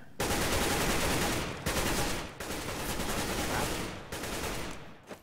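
Loud, sustained bursts of rapid automatic gunfire in a game, broken by a few short gaps, close and harsh.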